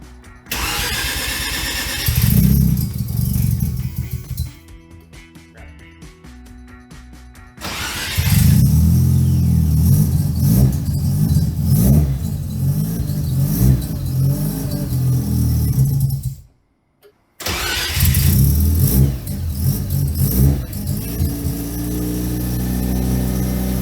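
A Mazda RX-7 rotary engine with no idle system cranks and fires, then revs loudly under held throttle, drops briefly to near silence, and roars back to life, close and powerful.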